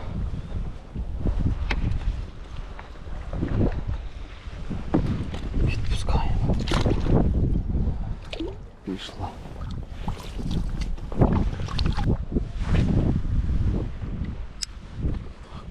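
Strong wind buffets the microphone while a man fishes for pike with a spinning rod from a boat, gusty rumbling blasts rising and falling throughout as he talks over it.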